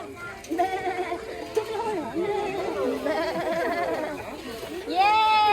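A goat bleats several times, wavering cries rising over children's chatter and talk nearby at the Eco Sinar Resort, with a louder bleat near the end.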